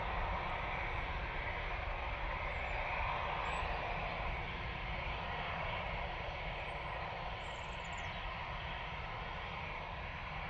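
An Aer Lingus airliner taxiing at Manchester Airport gives a steady, continuous jet-engine roar and rumble that stays even for several seconds, with no talk.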